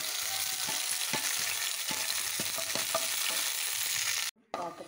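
Cashews and raisins fry in a hot pan with a steady sizzle, punctuated by rhythmic scraping and tapping of a stirring spoon, ending in a brief pause and a clatter.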